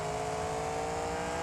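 A monster truck in the BeamNG Drive video game accelerates hard with nitrous engaged, giving a steady, droning engine roar with sustained tonal whine, loud and continuous with no voices.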